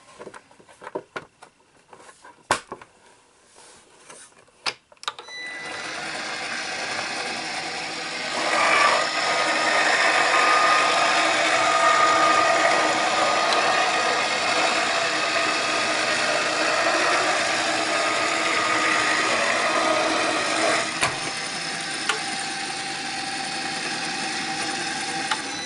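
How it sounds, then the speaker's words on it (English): A manual die-cutting machine runs shaping molds and plates through its rollers, giving a steady grinding, cranking rumble for about twenty seconds after a few sharp handling clicks and taps, close and continuous, with no speech. "And then I'm just going to run this through my machine."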